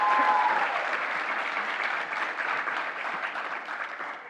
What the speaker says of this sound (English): Round of applause again, please